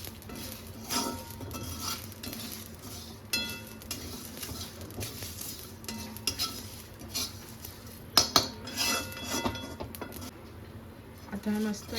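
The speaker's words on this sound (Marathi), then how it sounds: "परतवून घेऊया." Masala of spices and poppy seeds stirred in a pan over low gas for a spicy homemade mutton curry, with steady scraping and clinking of a metal spatula against the pan under occasional talk.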